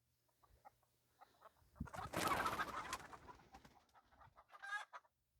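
Faint chickens cluck and coo nearby, with a brief burst of rustling flapping in the middle and a sharper squawk near the end.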